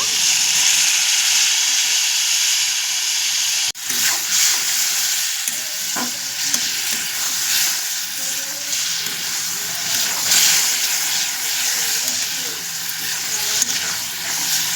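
Chicken liver curry simmers in a pan after a little water is added, giving a loud, continuous sizzling hiss with a sudden sharp burst early on and occasional stirring scrapes throughout.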